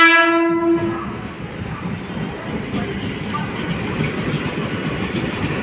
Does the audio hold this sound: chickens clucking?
no